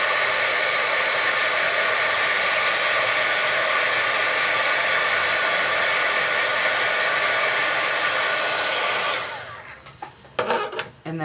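Handheld heat tool blowing steadily to set ink on kraft glassine, a loud continuous whooshing hiss that cuts off near the end, followed by a few light clicks and handling sounds.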